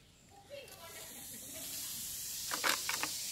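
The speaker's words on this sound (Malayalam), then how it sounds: "ഇതാ നമ്മുടെ ബേക്കിംഗ് സോഡ ഇട്ടപ്പോഴത്തേക്കും റിയാക്ഷൻ നടന്നു, പെട്ടെന്ന് റിയാക്ഷൻ നടന്നിട്ടുണ്ട്" Baking soda is added to a colored mixture in a homemade volcano, and the reaction gives off a steady, soft fizzing hiss that builds over a few seconds while a voice talks briefly at the start.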